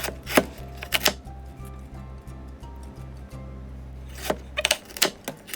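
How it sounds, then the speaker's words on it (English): A knife dices baby carrots on a board in a home kitchen, with a short burst of sharp, close chopping strikes at the start and another quick cluster near the end, separated by a quieter pause. "So at this time I'm dicing up as much as I can before I add the oil to the preheated pot"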